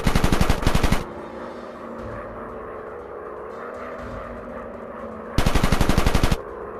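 Two loud bursts of rapid machine-gun fire from a WWI warplane in a night dogfighting video game, one at the start and one near the end, with a steady engine drone in between.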